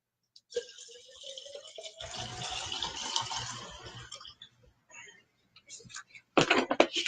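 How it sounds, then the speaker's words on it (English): Liquid pours into paint rinse bottles, one being filled with Mona Lisa thinner for rinsing brushes: a gurgling stream rises in pitch as the bottle fills, followed by plastic rattles and a cap clicking nearby. "the first thing we're going to do is make sure all my bottles are filled."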